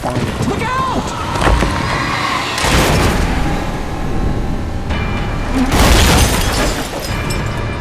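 A car crash in the video game Alan Wake, with two loud broadband impacts a few seconds apart, each followed by crunching and rumbling, set over a continuous rumble with voices mixed in.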